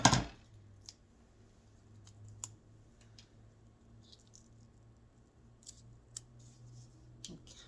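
Scissors snip a paper snowflake in small, scattered cuts, faint and close, with a quiet room hum underneath.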